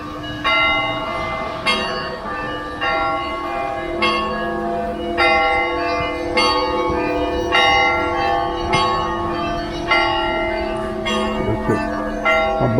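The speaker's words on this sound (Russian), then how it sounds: "Колокольный звон." Church bells ringing for a service at a temple near the Lena River by Yakutsk in deep winter cold, repeated loud clangs struck in a steady rhythm over a sustained ringing hum, with several bells layered and no talk.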